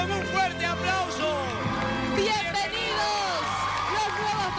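A studio audience on a competition TV show cheers, whoops and shouts over a continuous crowd roar, while a loud voice carries on throughout.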